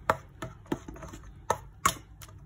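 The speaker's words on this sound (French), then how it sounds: "Les bananes sont bien écrasées." Banana being mashed in a bowl for banana fritters, with about six sharp, irregular squashing thuds at close range and no talking.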